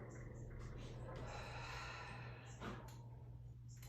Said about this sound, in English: Feel you exhale every morsel of your air out.